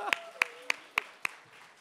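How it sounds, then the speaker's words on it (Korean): A church congregation giving a round of applause heard as five sharp, evenly spaced claps about a quarter second apart, fairly close and crisp, with faint talk underneath at the start. "다시 한번 격려의 박수."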